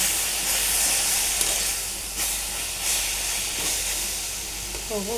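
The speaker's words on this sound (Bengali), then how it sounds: "এই যে চুলে ভাতও বলক এসে পড়েছে আমার শাকও হয়ে যাচ্ছে" Rice boils and greens cook on a home stove, giving a close, continuous steamy hiss and sizzle with faint bubbling throughout.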